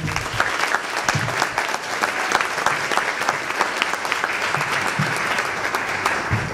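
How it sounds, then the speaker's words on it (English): Sustained applause from a large audience at a Regional Hispanic Institute Mujeres 2010 event, steady and loud throughout with dense clapping and no pauses. "let's give them another round of applause, please"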